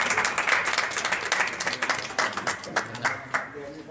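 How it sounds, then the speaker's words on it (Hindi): Hearty clapping from a crowd at a Hindi kavi sammelan in Chandausi, Sambhal, loud at first then thinning into scattered claps, with voices talking over it. "अतुल कुमार शर्मा जी, बैंकर संभल, जोरदार तालियों से अभिनंदन"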